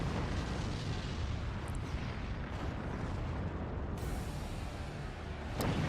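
A nuke detonating in the RTS game Forts, a sustained low explosive rumble and crackling roar throughout, with a fresh burst at the very end.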